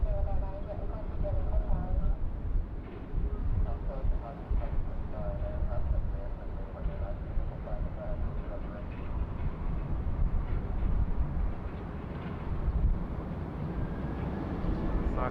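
Thai Smile airliner on its takeoff roll at Bangkok airport, a steady low engine roar heard from a distance, continuous and fairly even in loudness throughout.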